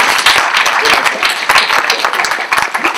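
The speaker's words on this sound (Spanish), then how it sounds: "Yo creo que hay que aplaudir." A crowd applauds with dense, loud clapping that fills the whole stretch, and a voice speaks briefly over it.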